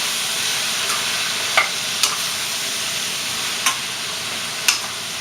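Spoon stirring a soy sauce mixture in a pan on an electric stove, a steady soft scraping with a few sharp clinks against the pan, close and alone.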